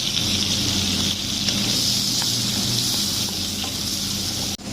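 Onion and garlic sizzle steadily in a hot pan while sautéed for meatballs, a dense continuous frying hiss with faint stirring scrapes, loud and close, with no talk.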